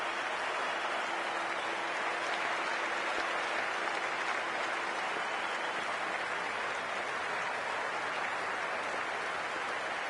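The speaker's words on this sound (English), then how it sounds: "We're about to get underway and already the crowd is up and about." A large cricket stadium crowd applauds and cheers just before the opening ball of the Pakistan vs Sri Lanka Tri Nation Series final, producing a dense, steady wash of distant clapping that runs throughout.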